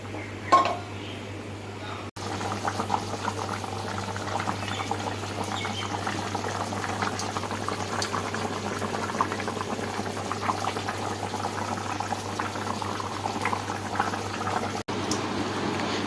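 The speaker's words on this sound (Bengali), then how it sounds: "এখন মাংসটা জল দিয়ে ভালোভাবে ফুটিয়ে নেবো" Meat boiling in water in a cooking pot gives a steady close bubbling and simmering with a low hum underneath and a faint knock near the start.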